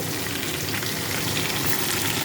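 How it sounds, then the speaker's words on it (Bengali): Garlic and green chilies fry in hot oil with black cumin, giving a steady, close, loud sizzle and crackle with no talk. "এবার তেলের উপরে দিয়ে দেবো এই রসুনটা আর দিয়ে দেবো জিরে রাখা কাঁচা লঙ্কা"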